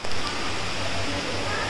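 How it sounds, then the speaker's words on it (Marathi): Rain falls steadily at an outdoor camp near Mumbai as an even, diffuse hiss, fairly soft and continuous throughout. "पाऊस आलाय जस्ट."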